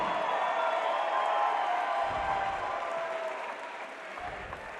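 Crowd at a boxing match applauding and cheering for two fighters, a dense steady wash of clapping with whoops that fades slightly toward the end.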